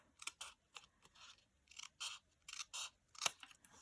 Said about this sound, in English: I'm just going to go just below that score line and trim that glue tab off